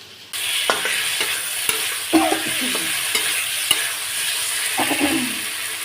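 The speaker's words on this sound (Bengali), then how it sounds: "সেই মাছটা দিয়ে আলু দিয়ে রান্না করছি" Fish and potatoes fry with spices in a pan, a loud, continuous sizzle that begins abruptly, with intermittent scraping and clattering as the mix is stirred and no talk.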